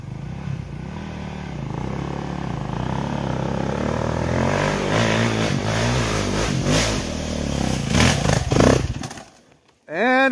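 A Honda CRF300L trail motorcycle labors up a trail, its engine droning steadily and revving harder before it abruptly cuts out as the bike stalls, leaving near silence.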